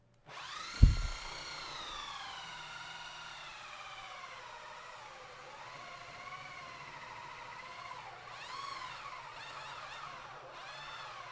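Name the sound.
drilling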